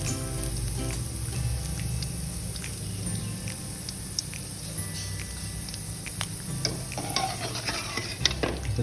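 Papad made from sweet potato frying fast in hot oil, a steady dense sizzle and crackle with scattered sharper pops toward the end, close and continuous with no talk.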